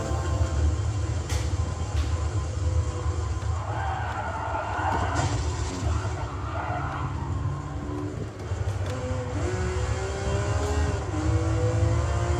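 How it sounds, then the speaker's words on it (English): A Ferrari Enzo's engine in the Gran Turismo 7 racing game drones steadily and loudly throughout, with rising and falling rev tones and shifts as the car accelerates, no talk over it. "I'm driving an Enzo."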